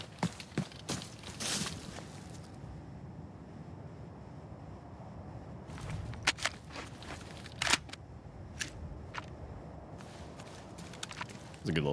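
Footsteps in the shooter game Arena Breakout, a scattered series of light, sharp steps over a steady windy outdoor ambience, with clusters at the start and middle and isolated taps later.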